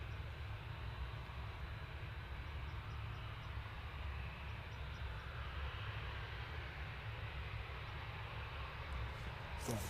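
Juneyao Boeing 787-9 airliner, flight HO 1661, a continuous broad jet engine roar at a steady level, moderately distant and unbroken throughout.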